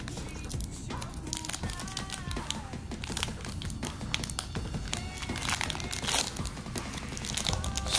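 Yu-Gi-Oh card packs torn open by hand, a continuous crinkle and rip of foil wrappers with small taps and crunches, close and busy throughout.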